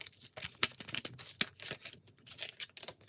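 Packaging of Power Easy Gel glue being torn open and unwrapped, a close run of quick crinkles and sharp rips with brief pauses, no talking.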